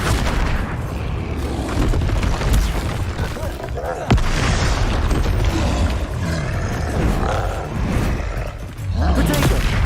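Spell explosions from the video game Hogwarts Legacy boom and burst again and again in a dense, continuous barrage of loud magical combat sounds, while a voice shouts spell names over them.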